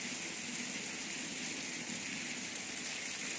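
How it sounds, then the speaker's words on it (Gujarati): Steady rain falling in the early evening, a dense, even hiss that holds constant and moderately quiet throughout with no other sounds. "જો હજુ 5:30 ને ઉપર 5 મિનિટ થઈ છે તો વરસાદ જો ચાલુ થઈ ગયો"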